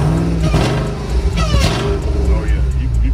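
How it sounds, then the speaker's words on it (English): A Dodge Charger Hellcat Redeye with an upgraded exhaust revs loudly and close by, the engine surging and dropping in bursts while people talk over it. "You can hear it. They upgraded the exhaust"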